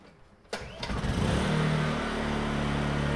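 A Honda EU2000i inverter generator is pull-started with a sharp clatter, sputters briefly, then settles into a steady, moderately loud running drone with an even tonal hum.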